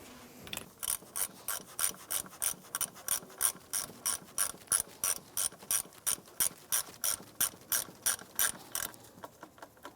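A hand ratchet tightens a 10 mm nut during spark plug work on a 2007-2013 Acura MDX, giving a long run of evenly spaced, crisp clicking strokes, close and steady, with no talk.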